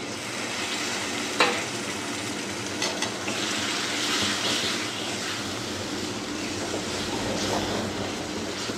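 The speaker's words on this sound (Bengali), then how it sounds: "সামান্য জল দিচ্ছি, মশলাটা যাতে না লেগে যায়।" Spice paste sizzles steadily in a pan after a splash of water, with a bright, continuous frying hiss, a few sharp spatula scrapes and stirring sounds, and no talk.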